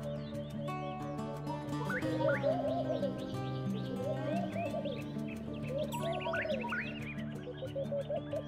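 A laughing dove, also called the palm dove, coos softly amid chirping birds, all set against steady background music.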